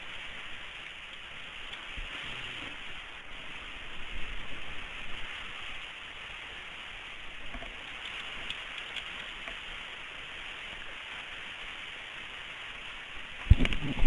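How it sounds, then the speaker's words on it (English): Steady rain beats down on a roof, a dense continuous hiss with small bursts of louder patter and a sharp knock near the end, with no talking. "You guys can probably hear the rain."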